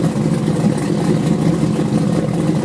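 A car called the Squirter idles with a loping cam, its engine holding a steady, slightly uneven rumble throughout without revving up.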